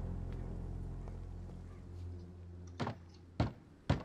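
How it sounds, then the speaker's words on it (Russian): In the video game Vampyr, three loud, spaced knocks on a heavy wooden church door ring out over a low, steady droning ambience. "Вампир стучится в церковь."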